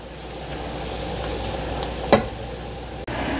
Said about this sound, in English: We will go ahead and stir this and cook it for about 1 to 2 minutes until thick.